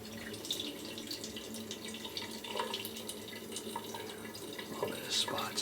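A razor is rinsed under a running tap, with water splashing and dripping steadily over the sink for several seconds, fairly close, together with small clinks and some faint background noise.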